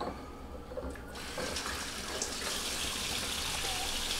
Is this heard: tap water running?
yes